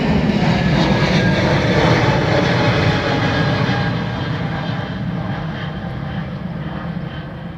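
A Ryanair airliner lands on runway 28 right at Dublin Airport, a loud, steady broadband engine roar that stays strong and gradually eases slightly in level as it passes.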